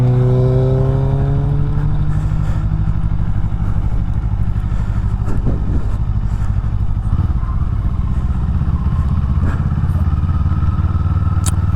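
A Kawasaki Eliminator 500 motorcycle idles and pulls a slow turn on gravel, its steady loud engine drone rising and falling close by, with faint crunching underneath and no talk.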